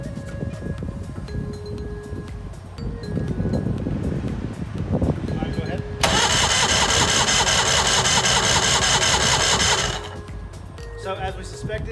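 A two-stroke engine on a center console boat is cranked over by its starter during a compression check, a loud steady whirring that runs for about four seconds after a stretch of talk and mechanical noise.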